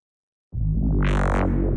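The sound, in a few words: synthesizer bass patch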